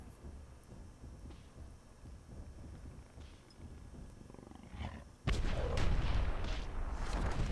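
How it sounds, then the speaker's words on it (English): Dwarven mortars firing in the video game Myth II Soulblighter, with muffled distant booms and rumbling at first, then a sudden loud, close blast that opens into sustained heavy rumbling and crackle. "We see Overdose's Dwarven mortars getting to work"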